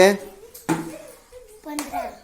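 Children in a classroom clap their hands in a few short bursts, with a voice and an adult's voice talking between them.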